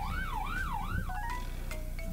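An ambulance siren on a Malaysian road rises and falls in a few quick wails, then breaks into shorter tones over a low hum of traffic.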